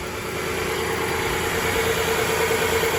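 A 2023 VW Atlas 3.6 V6 engine idles steadily after an oil change with a low, even hum and faint vibration, close by and constant, no voices.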